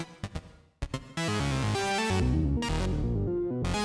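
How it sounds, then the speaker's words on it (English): A modular synth plays a random sequence from a NerdSeq sequencer, shaped by Make Noise Pressure Points pads: a few sharp plucky notes, then a loud sustained run of stepping tones with short gaps. "I have just a random sequence programmed here into NerdSec"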